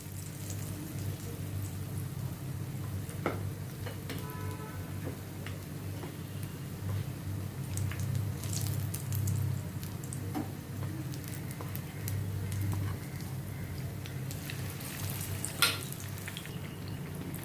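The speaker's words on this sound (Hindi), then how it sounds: "अभी ये दूसरा बैच भी मैं फ्राई करती हूँ।" Stuffed potato slice bhajiya frying in a pan of hot oil, a quiet, continuous crackle and sizzle with a few faint clicks.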